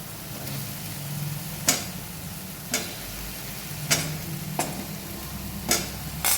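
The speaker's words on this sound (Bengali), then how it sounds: "আলুগুলো দিয়ে ভালো করে কষিয়ে নেবো আবার" Potatoes frying in a tomato masala, with a low steady sizzle and a spoon scraping and stirring in sharp strokes about once a second.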